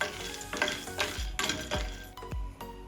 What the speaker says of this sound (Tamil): பச்சை கச்சானா இருந்தா நீங்க நல்லா பொன்னிறமா வரும் வரைக்கும் வறுத்தெடுக்கணும்